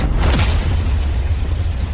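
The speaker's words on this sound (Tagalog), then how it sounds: "Sumabog ang sasakyan." A car explodes with a loud, deep boom that settles into a heavy, sustained low rumble, close and filling the scene without speech.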